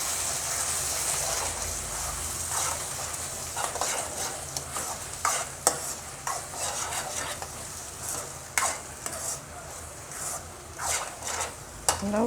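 Eggs and chopped green vegetables stirred together in a pan, a steady scraping and rubbing of spoon against the pan with soft clicks and a few sharper scrapes, close and moderately loud, no talking.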